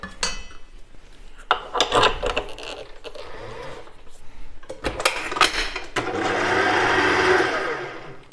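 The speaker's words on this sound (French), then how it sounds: "On actionne le robot." Food processor whirring as it mixes panzerotti dough for a tomato-mozzarella recipe, starting after scattered clatter and short bursts and settling into a steady loud broadband drone for the final few seconds.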